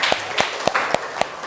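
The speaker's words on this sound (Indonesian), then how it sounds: "Terima kasih Dira, kasih tepuk tangan dulu" A few distinct claps in a school classroom during a physics lesson, sharp hand claps in a steady rhythm, fairly faint and close.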